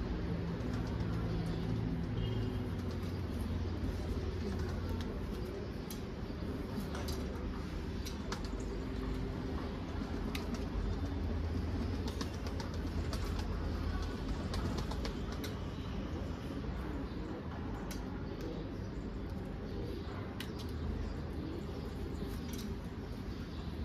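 Young homing pigeons coo softly and steadily through a loft, a low continuous murmur with occasional wing flaps, heard close and without talk.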